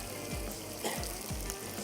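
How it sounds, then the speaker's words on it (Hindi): Onions and boiled potatoes frying in a pan for a home-style potato and onion dish, a steady close sizzle with a few soft stirring scrapes, no talking. "प्याज को थोड़ा सा फ्राई करते हैं, फिर उबले हुए आलू हमने इसमें ऐड कर देना।"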